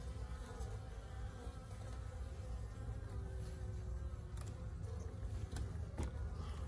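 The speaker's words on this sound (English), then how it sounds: "So all the bees are down there." Dense, steady buzzing of many honeybees in an observation hive fills the space, a continuous close hum with a few brief louder passes.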